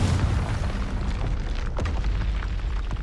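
A Confringo fire spell bursting in Hogwarts Legacy, a heavy rumbling boom with deep low-end roar sustained across a few seconds, loud and close, with no speech.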